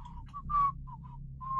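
A person whistles a short, wavering tune in clear, close notes, brief phrases separated by small gaps, alone without talk over a faint low background hum.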